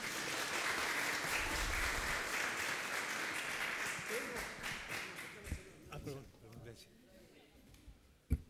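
Loud, sustained applause fills a justice and penal affairs committee session, then fades after about five seconds into voices and scattered claps.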